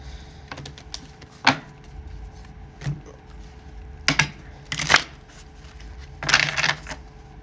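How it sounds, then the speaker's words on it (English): Intermittent crisp taps and short papery flurries of tarot cards being shuffled, quiet and close, with pauses between bursts and no voices. "let's do another shuffle"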